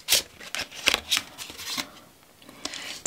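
Tarot cards shuffled by hand in a few quick riffling bursts, soft crisp flicks and slaps spaced unevenly, close and fairly quiet, with no talking.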